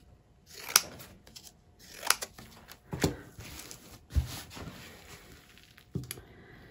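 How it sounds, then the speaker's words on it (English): Scissors snip through paint-pouring cards to cut them into strips, a few sharp, separate cuts spaced about a second apart against a quiet room. "cut them into a couple of strips here"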